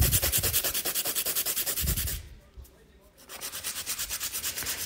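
A nail file rasps rhythmically across gel nails in quick, even back-and-forth strokes, close and steady, with a brief pause midway before the filing resumes.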